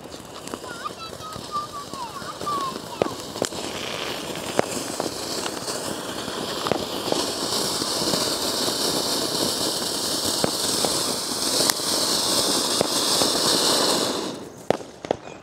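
Sivakasi fountain crackers, a new Lemon Tree fountain among them, burn close by with a sustained loud hissing crackle and popping sparks for about fourteen seconds before cutting off abruptly.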